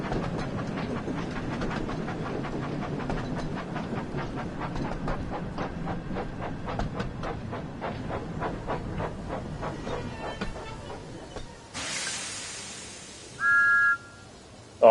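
A steam locomotive in the Thomas-themed video game Wonders of Sodor chuffs along in a steady rhythmic beat, with a long hissing release of steam and a short whistle near the end.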